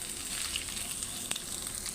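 Steady sizzle of onions frying in a pan with turmeric for methi shak bhaji, a continuous broadband crackle at moderate level with one brief sharper pop, no talking.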